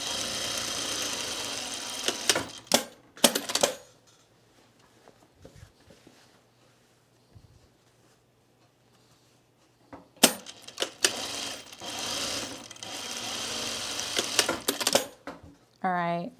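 A sewing machine runs in fast rattling bursts while stitching a shirt seam, stopping into near silence midway before starting up again for a longer run.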